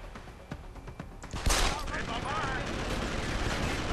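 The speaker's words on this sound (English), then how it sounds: "I'm gonna use machine gun" Gunfire from a machine gun in the video game Deus Ex: Human Revolution, with scattered sharp shots building into a loud, sustained burst partway through, as a voice talks over it.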